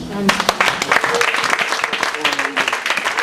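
A church congregation applauding and cheering, dense close clapping with shouts and voices mixed in, loud and lively throughout.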